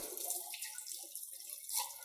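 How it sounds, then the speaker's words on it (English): Warm water runs from a faucet over a dirty green wall filter being rinsed clean, a soft, continuous splashing that stays faint throughout. "just turn the water on, get it nice and warm / hot, and just wash out the filter"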